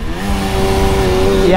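A Suzuki GT185 motorcycle pulls hard under acceleration, its engine holding a steady, close, continuous drone that rises slightly toward the end, with a brief voice over the top.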